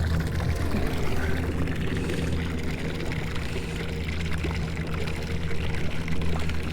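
Water emptying from an overfilled live well on a fishing boat, a steady rushing pour and trickle with a low pump-like hum underneath, continuous and fairly close throughout.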